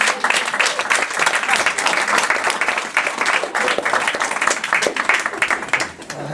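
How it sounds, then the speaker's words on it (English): A literary reading audience at a writers' conference gives a poet a big round of applause, dense and sustained clapping close by, tapering off near the end. "give him a big round of applause."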